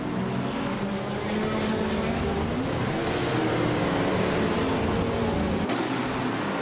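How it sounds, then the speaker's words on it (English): Several race cars in a racing video game roar off the line together at Charlotte Legends Oval, a classic 1971 Puma GTB among them, as a dense, steady engine drone that builds and holds loud throughout, with no talk. "the race kicks off at Charlotte Legends Oval"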